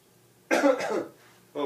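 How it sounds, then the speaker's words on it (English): A patient in a clinical exam room coughs twice. The first cough is a sharp double burst, and a shorter one follows after a pause. Both are close and clear, with no other talk. "I notice you have a little bit of a cough there"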